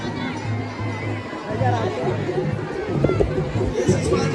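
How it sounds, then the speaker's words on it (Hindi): Dense crowd at the Danda Nagraja village fair, a constant murmur of many voices chattering close by, with nearer voices rising over the babble and some low rhythmic sounds underneath. "बहुत ज़्यादा भीड़ हो गई भाई"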